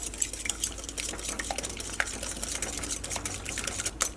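Ingredients with vanilla extract being whisked for a sweet wheat snack, a steady run of light metallic clinks and scrapes against a bowl with a few sharper taps, close and continuous with no talking.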